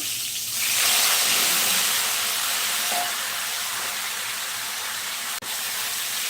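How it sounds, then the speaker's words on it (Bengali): Cumin seeds tempering in hot oil for a rohu fish dish, a broad continuous hiss that swells early and then holds steady, with one brief knock near the end. "জিরা ফোড়ন দিয়ে দিলাম"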